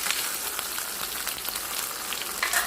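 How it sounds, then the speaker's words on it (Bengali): Food sizzles lightly in a small amount of oil in a pan, a steady soft crackle and hiss without talking. "হালকা ফ্রাই করে নেবেন, সেটা বেস্ট হবে।"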